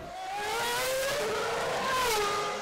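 A Formula 1 car on board at the Monaco Grand Prix in 2006 practice, its high engine note sweeping steadily and loud while downshifting toward Mirabeau, with no talk over it.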